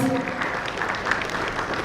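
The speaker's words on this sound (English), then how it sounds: "Come on, can we have a huge round of applause?" A corporate audience applauds after a sales presentation, an even wash of clapping hands with a brief tonal ring at the start and a voice faintly present underneath.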